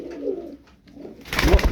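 Pigeons in a coop giving soft low coos, a couple of murmured calls followed by a louder fluttering burst near the end, close by.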